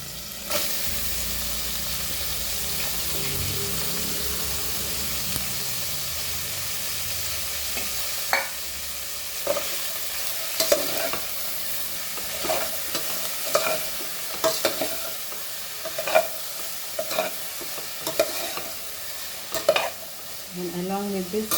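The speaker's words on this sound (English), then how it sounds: "Fry my onion." Chopped onion frying in a pan for Goan pork bafat, a steady close sizzle throughout, joined in the second half by repeated scraping and tapping strokes of stirring, with no one talking.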